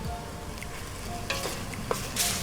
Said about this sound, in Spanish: Luego de sofreír la cebolla y el ajo, proseguimos a colocar las papas